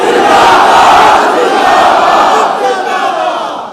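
A large religious gathering's crowd roars a slogan in unison, loud and sustained, voices blending into a dense swelling chant close up with no gaps.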